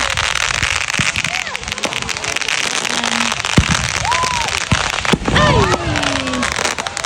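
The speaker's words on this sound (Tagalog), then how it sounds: "Putukan dito, putukan everywhere." Fireworks and firecrackers go off at a Fourth of July celebration in a park, with dense crackling bursts, popping and rising whistles layered together, loud and continuous, as voices call out in the background.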